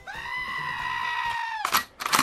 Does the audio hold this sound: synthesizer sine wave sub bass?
no